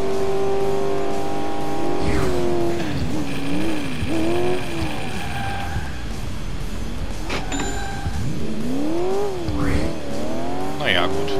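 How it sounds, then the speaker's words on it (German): Cars collide in the Alarm für Cobra 11 Burning Wheels video game, with high-revving engines, squealing tires and sharp impact bangs, loud and close while someone talks throughout. "Ich raste den so mit 300 oder noch was in sein Auto und er kriegt nicht so viel Schaden."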